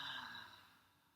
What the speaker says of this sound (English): breathing out with a ha sound